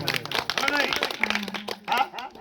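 A church congregation claps along to a devotional song about Jesus, with rhythmic, moderately loud clapping under a singing or preaching voice.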